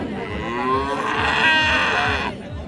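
At a rural cattle market selling crossbred Friesian cows and calves, a cow lets out a long, loud, close moo over a steady murmur of crowd noise.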